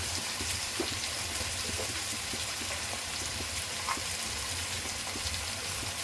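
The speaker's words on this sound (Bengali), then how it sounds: "জিরে পাউডার, একটু ভেজে নেব।" Chili, turmeric and cumin powder fry with tomato in a pan for palak paneer, giving a soft, steady, continuous sizzle with faint stir clicks and no speech.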